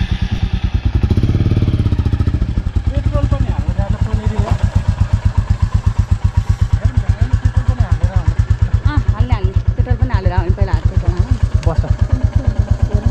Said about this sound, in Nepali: उसो भए त म बाइक स्टार्ट गर्छु